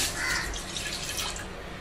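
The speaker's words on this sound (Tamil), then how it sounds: "சர்க்கரை பாகு ரெடி பண்ணுறதுக்கும் தண்ணி கொஞ்சம் ஊற்றணும்." Water is poured into a pan to start jaggery syrup for sakkarai pongal, a steady close splashing hiss running for about two seconds without any talk.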